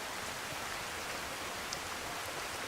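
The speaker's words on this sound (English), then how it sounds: "if you're enjoying this rain, this is Compliments of True Storms" Rain from the True Storms mod in Skyrim Special Edition falls as a faint, steady, even hiss with no other sounds.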